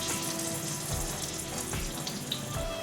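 Water is poured into a mixer jar holding ginger, garlic and a ground masala mixture for mirchi ka salan, giving a steady splashing trickle that stays close and fairly soft throughout.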